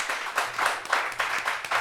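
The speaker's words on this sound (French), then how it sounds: "qu'on applaudit très fort, s'il vous plaît." An audience at a French martial arts show applauds a fighter being introduced, a moderately loud clapping crowd with distinct rhythmic surges of hands beating in a loose, repeated pattern.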